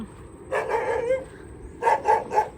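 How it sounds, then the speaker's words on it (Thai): A dog barks outdoors beside a busy road. One drawn-out bark is followed after a pause by three quick barks in a row, all fairly close and clear over quiet background noise. "ดูสิหมาเห่าคนสวยทุกคนเลย"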